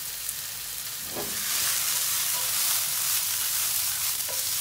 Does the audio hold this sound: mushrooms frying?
yes